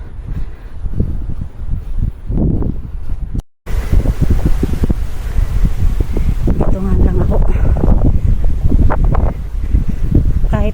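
Strong wind buffets the microphone at Victoria Peak in Hong Kong during typhoon signal 3, gusting continuously with rumbling bursts as someone talks over it.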